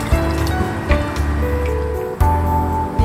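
Creamy ramen broth poured through a strainer to catch bones and large particles, a close, steady liquid stream with splashing drips running the whole time.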